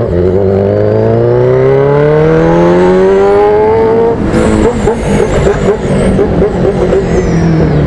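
A group of motorcycles rides near a motorcycle ranch, engines revving loud and close with rising then falling pitch, one bike accelerating hard over the droning of the others.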